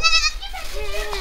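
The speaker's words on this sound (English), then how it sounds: "What's the matter, Mama Goat?" Mother goat bleating close by in a pen with her kids, a harmonic wavering cry over the first moments, followed by a person speaking softly.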